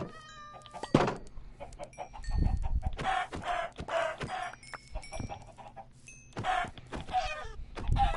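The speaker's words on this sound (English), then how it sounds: "I'm thinking I need to do something about these chickens. There's just too many chickens." Chickens on a farm in Minecraft cluck in short, repeated bursts at close range, with several birds overlapping in a busy, uneven pattern.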